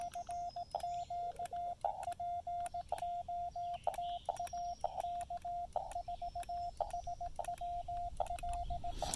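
Morse code beeps on a lab599 Discovery TX-500 amateur radio outdoors on the Blue Ridge Parkway: a clear, steady tone keyed in quick dots and dashes at a brisk, regular pace over faint static and clicks.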